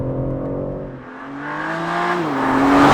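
BMW G80 M3 engine accelerating, a loud close rising engine note that dips briefly, then climbs steadily in pitch through the gears with a smooth harmonic whine.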